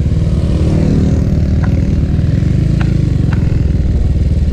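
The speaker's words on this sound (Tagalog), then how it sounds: "pumupugak-pugak daw yung motor niya" A Sniper 150 motorcycle engine drones loud and close with a rough, pulsing low rumble that runs continuously without pause, with a few faint higher clicks over it.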